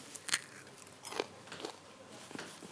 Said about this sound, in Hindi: आई होगी आपको क्रंचीनेस की आवाज़, इतने क्रंची बने ये।